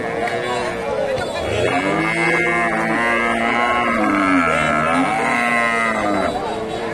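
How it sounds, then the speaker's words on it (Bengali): A Holstein Friesian cow moos loudly and close by at a busy cattle market in Bogura, one long drawn-out call over crowd noise and nearby voices. "আর এটা গাভী"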